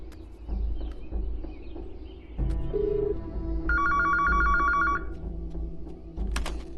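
A telephone rings in a residential setting as a call is placed: a steady electronic ringing tone with a bright warbling burst, heard near and alone over a low background hum, with no talking.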